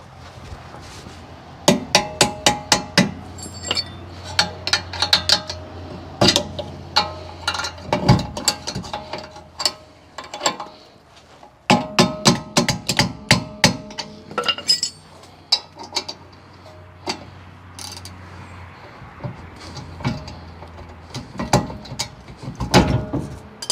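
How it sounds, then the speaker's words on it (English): Sharp metallic strikes ring out in bursts, a hammer tapping out a rear shock absorber on a Ford F150, with clinks and rattles between clusters of blows. "I'm going to grab a hammer and we're just going to tap this out"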